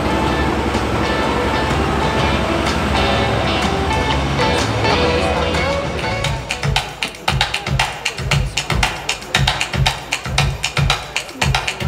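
An ÖBB class 2070 diesel locomotive passes at a railway parade in Strasshof, a loud, close engine roar that gives way to rhythmic wheel clatter over rail joints as the cars roll by.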